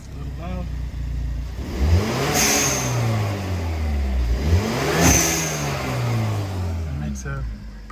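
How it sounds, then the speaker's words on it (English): A Hyundai Elantra N fitted with an HKS SQV blow-off valve revs loudly up close, two strong throttle blips rising and falling with the engine note, each ending in a sharp hiss of released boost, with no talk over it. "If I rev it up, you're gonna hear the little magic."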